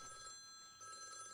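A telephone rings faintly indoors in a home, a steady electronic ringing tone that holds through the short moment with a brief dip midway, alone without speech.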